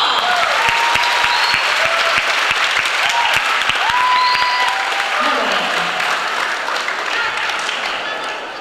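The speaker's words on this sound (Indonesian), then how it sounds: "Kita berikan tepuk tangan untuk Romo." Audience applause for Romo, a priest, at an evening session of the Sekami youth jamboree, dense and steady clapping across the whole stretch that thins slightly toward the end.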